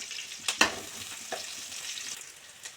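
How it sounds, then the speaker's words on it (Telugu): Thinly sliced onions fry in oil with cardamom, cloves and cinnamon, a soft steady sizzle broken by a few sharp scrapes and clinks of stirring close by. "ఇవి లైట్గా గోల్డెన్ కలర్ వచ్చేలా ఫ్రై చేసుకోవాలి"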